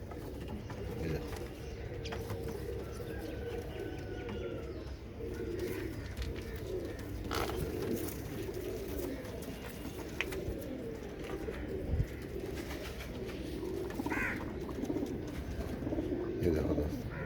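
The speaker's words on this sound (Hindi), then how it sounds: "ये सारे कांटो वाले कबूतर" Kanto Walay Teddy pigeons coo softly and repeatedly in a quiet loft, their low murmuring calls continuous, with someone talking faintly at times.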